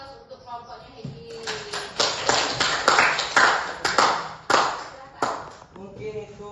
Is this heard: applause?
yes